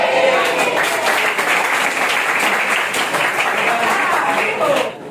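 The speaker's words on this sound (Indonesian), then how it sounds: "Tepuk tangan" Loud, dense applause from an assembled group of students at a school integrity class, continuous for about five seconds before it cuts off abruptly, with faint crowd voices beneath.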